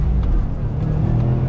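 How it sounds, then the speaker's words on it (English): A 2020 Subaru WRX STI pulls in third gear, with a steady gearbox whine riding over the low, loud engine drone from inside the car. "Hear those whines from the gearbox, third gear."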